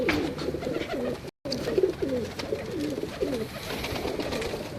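Breeder pigeon cooing close by, a series of soft rolling coos repeating steadily with a brief gap, over faint background noise.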